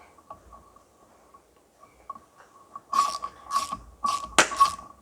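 A spanner ratchets in short bursts while tightening a double nut on the flywheel studs of a John Deere 1640 tractor. Faint clicks come first, then several louder, rasping ratchet strokes close by.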